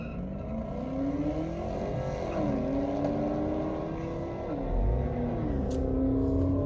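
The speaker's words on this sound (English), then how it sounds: "It's burnout. Let's see how that goes." A car doing a burnout before a 1/8 mile drag race, a loud sustained engine roar with rising and falling revs and tire noise, heard from nearby and continuous throughout, with no talk.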